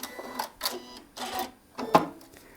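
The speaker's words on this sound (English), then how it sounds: "I'm going to use the thread cutter button" A Janome M8 sewing machine's thread cutter button is pressed, giving a short series of mechanical whirring and clicking bursts, close and fairly quiet, ending in one sharper snap.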